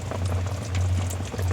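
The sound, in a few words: oil heating in a pan for frying eggplant fritters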